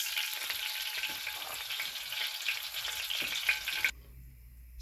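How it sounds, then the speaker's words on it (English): Fish frying in hot oil on a medium-heat stove for a Caribbean stewed fish, a steady bright sizzle that cuts off abruptly near the end, leaving a low hum. "Then I'll continue and fry the rest."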